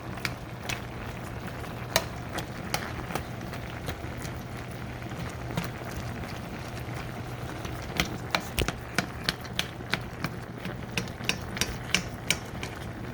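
A spatula scrapes and taps against a pan, breaking up food in simmering vegetable broth. Soft irregular knocks and scrapes repeat over a steady low bubbling hiss, growing sharper and more frequent toward the end, with no talking.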